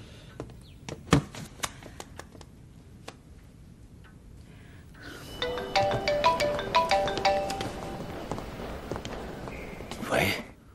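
A phone in an office rings with a melodic electronic ringtone that begins partway through after scattered ticks and footsteps, its repeating tones moderately loud.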